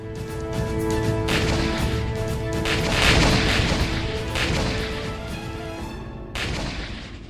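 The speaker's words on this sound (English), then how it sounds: "its true identity is the K9 self-propelled howitzer, the sniper of the battlefield, capable of pulverizing targets from over 40 kilometers away." A K9 Vajra self-propelled howitzer firing gives several heavy booming blasts, one after another, loud and close, each with a rumbling tail.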